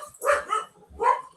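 A dog barks twice in a short burst and then once more, close and fairly loud, with a home livestream going on in the background.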